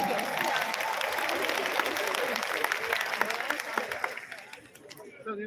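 A crowd applauds loudly and steadily, the clapping thinning out and fading near the end.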